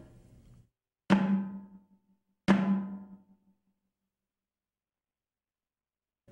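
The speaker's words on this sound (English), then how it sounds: "it'll sound similar to a tom-tom, but higher in pitch." Two separate strikes on a snare drum with the snares switched off ring with a clear, pitched, tom-like tone about a second apart, each decaying smoothly. Brief talk is heard before the hits and again at the close.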